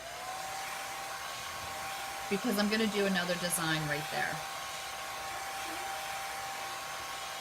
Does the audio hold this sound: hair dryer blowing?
yes